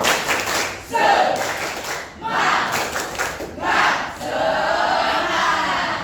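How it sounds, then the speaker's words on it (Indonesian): A group of schoolchildren performs a rhythmic spirit clap, with bursts of unison claps and chanted shouts repeating in a steady pattern, loud and close in a room. "Tepuk semangat."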